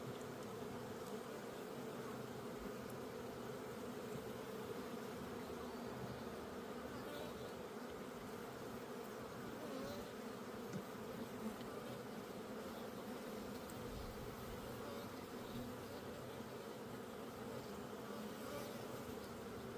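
A dense, steady hum of honey bees buzzing around an open hive during a summer dearth inspection, continuous and even throughout, fairly faint with no talk.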